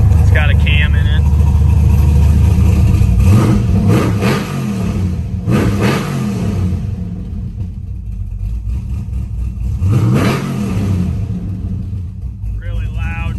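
A 1970 Chevrolet Nova with a cammed 6.0L LS V8 revs loudly, several rising and falling throttle sweeps over a deep rumbling idle, with a voice briefly at the start and end.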